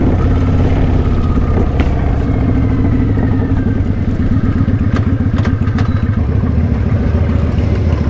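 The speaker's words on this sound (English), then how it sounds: "That's a nice bike, that Harley." A Harley-Davidson motorcycle engine runs loud and close, a constant low rumbling throb with faint rattles on top that holds steady throughout, with no talking.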